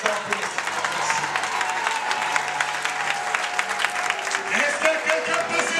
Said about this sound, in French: Est-ce que vous pouvez acclamer fort pour les